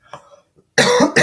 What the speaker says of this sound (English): y'all hearing me coughing a lot